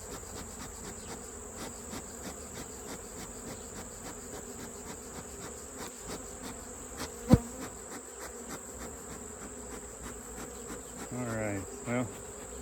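Honeybees swarm around an open backyard hive during a mite treatment, their steady, dense buzzing close and continuous, with one sharp knock partway through.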